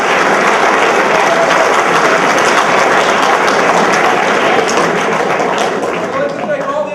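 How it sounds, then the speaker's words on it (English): An audience at a school spring sports awards ceremony applauds loudly and continuously, a dense wash of clapping filling the whole stretch and easing slightly at the end. "So give yourself a round of applause."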